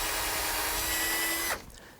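A power drill bores into walnut tree wood, its steady whine running loud and continuous for about a second and a half before cutting off abruptly, leaving quiet background.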